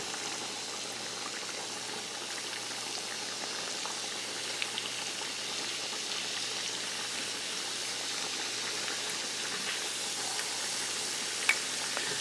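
Quail and bacon cooking on rice in a pan, a continuous low bubbling sizzle at steady volume, close by with no talk.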